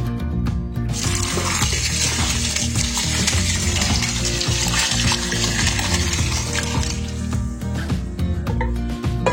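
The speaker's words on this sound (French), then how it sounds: "Je vais verser dans ma casserole" Deep red bissap hibiscus juice pours into a saucepan holding other ingredients in a home kitchen, a steady, loud, continuous splashing rush that keeps up for several seconds without talk.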